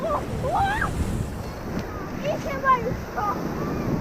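Stormy sea surf at Jarosławiec beach on the Polish coast: a continuous rushing roar of waves with wind buffeting the microphone and nearby voices chatting over it.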